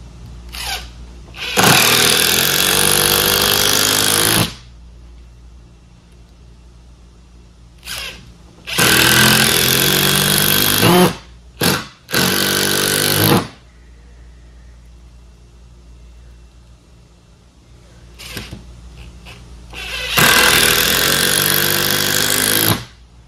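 A Bosch power tool drives screws into 7/64 pilot holes in loud, close bursts of whirring and hammering, each lasting a few seconds and separated by quiet gaps, with no talking.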